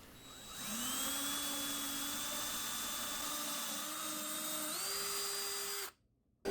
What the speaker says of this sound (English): I'm drilling in the right place